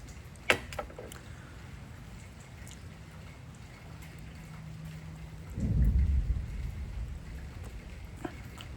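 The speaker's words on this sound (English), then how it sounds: "Thunder? In December? I guess it's possible." Faint distant thunder rumbles low for a couple of seconds over a quiet background with a few soft ticks and knocks, heard indoors in December.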